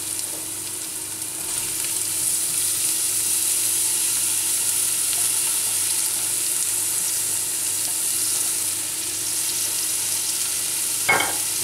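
Fresh onion sizzling steadily in a hot pan for lamb drob sarma, a constant close frying hiss with a brief clatter near the end.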